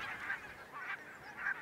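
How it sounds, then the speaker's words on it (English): Barnacle geese, small black and white wild geese, give three honking calls in a steady rhythm, moderately close against a quiet background. "Barnacles, being a small goose"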